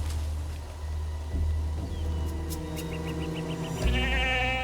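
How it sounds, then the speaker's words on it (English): A goat bleats on a film soundtrack, a wavering cry heard late and fairly close amid low rumbling ambience and background sound. "It's another goat."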